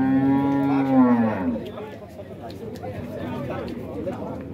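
A dairy cow lets out a long, loud moo up close at a dairy cow fair in Dois Riachos, Alagoas, Brazil, then fades into a background of murmuring voices and farm noise.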